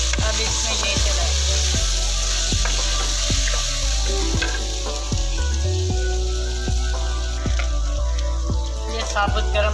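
Chopped tomato and green chilies frying over low heat, giving a loud, continuous sizzle with a regular, rhythmic thud of a spoon stirring and knocking against the pan.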